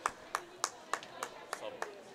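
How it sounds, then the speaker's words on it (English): Applause at a high school girls basketball game as a player heads to the bench: about seven crisp, evenly spaced claps ring out over soft gym background noise. "Geiger coming out as she gets a round of applause"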